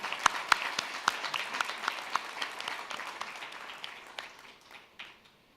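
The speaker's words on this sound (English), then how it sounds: "Can I request that all of us clap to welcome Pumzili here?" Conference attendees at a gender equality event clap to welcome a speaker, sharp individual claps standing out over a continuous bed of applause that gradually fades.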